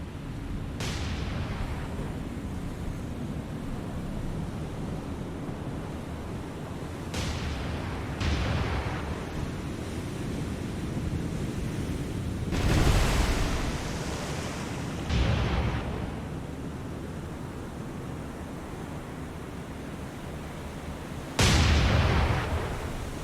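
Naval gunfire in the War on the Sea video game: several heavy booming shots and blasts burst out at irregular intervals, each with a rumbling tail, over a constant low roar of sea and engine noise.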